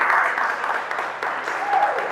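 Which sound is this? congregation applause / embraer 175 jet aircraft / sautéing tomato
congregation applause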